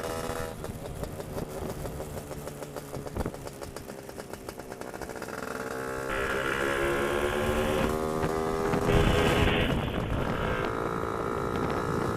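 A brand-new GT300LC motorcycle being run in climbs a gentle hill in top gear, its engine a steady mid-pitched drone that gradually grows louder and strains harder partway through, with no one speaking.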